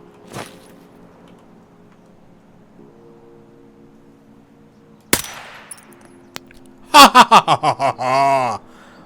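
A single sharp sniper gunshot in Escape from Tarkov cracks out loudly midway, followed by a quick burst of ringing metallic clanks, with a short distant report near the start and quiet ambient hum throughout.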